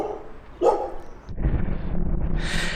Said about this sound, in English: apologies for the dog barking